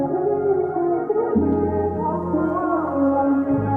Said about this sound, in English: I was looking for a nice ambient melody with a vocal in it